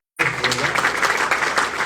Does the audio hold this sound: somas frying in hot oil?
no